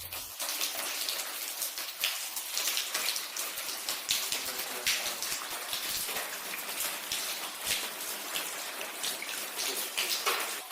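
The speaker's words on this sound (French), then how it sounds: "Juste une propriété entière sous la pluie." Steady rain pours over an abandoned yellow manor estate in Portugal, a dense, continuous hiss of drops hitting surfaces across the whole property, fairly close and unbroken, with no voices.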